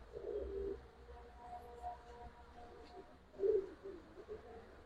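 A Giribaz pigeon coos softly: two low, throaty bursts a few seconds apart, faint against a quiet background.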